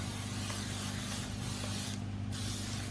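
Spray and Cook non-stick cooking spray hisses from a can in a home kitchen, a brief close burst of airy spraying with no talk over it.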